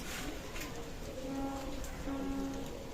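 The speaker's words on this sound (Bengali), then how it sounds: "গলালাল কবুতার অসাধারণ গলালাল কবুতার" Red-necked pigeons coo faintly from a pigeon loft, a few soft drawn-out coos surfacing over a steady background hiss.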